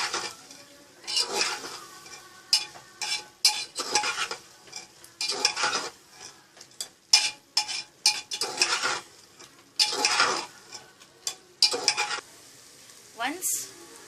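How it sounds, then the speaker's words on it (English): A spoon stirs mutton curry and spices in a pot, giving repeated scraping and clattering strokes in irregular bursts over a soft sizzle, close by and fairly quiet. "We'll stir everything together."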